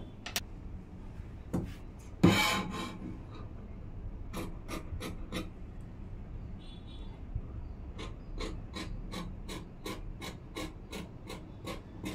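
Blouse fabric being cut at a tailoring table, giving a series of short, crisp scissor snips and rasping rubs, with one louder burst early on and then a steady run of evenly spaced cuts, close and fairly quiet, no talking.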